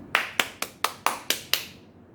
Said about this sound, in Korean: 축하드립니다. 박수